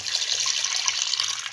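Water, 200 ml, poured into a pressure cooker over a turmeric-spiced potato mixture: a steady, splashy trickle close by, lasting a moment, with no talking.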